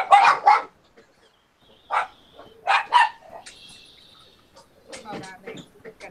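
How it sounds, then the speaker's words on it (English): Dogs barking indoors in short loud bursts, a pair of sharp barks, then several more spaced out with quieter yips and whimpers between, near and alone. "These dogs, they bark at everything and anything."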